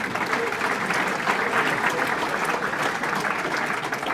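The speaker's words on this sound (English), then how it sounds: "Give yourselves a round of applause there." An audience at a vocational ethics day event gives itself a round of applause, dense continuous clapping from many hands, loud and even throughout without pause.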